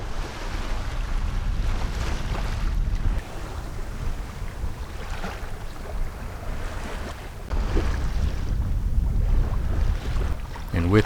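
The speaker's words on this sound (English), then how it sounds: "a nice gentle breeze filled in, and we were back to sailing" A sailboat moves under sail in a gentle breeze at sea, with steady broadband wind and water rush over the hull throughout, slight swells in loudness, and no motor or voices.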